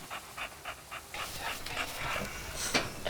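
A farm dog named Choppie pants close by in quick, rhythmic breaths, then the panting grows busier and mixes with small whimpers and snuffling.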